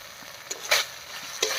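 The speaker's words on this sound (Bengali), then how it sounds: "মশলা কষিয়ে তেল ছেড়ে দিয়েছি" Spiced masala paste frying in released oil for a vegetarian moong dal with pointed gourd, a soft steady sizzle broken by a few sharp stirring scrapes near the mic.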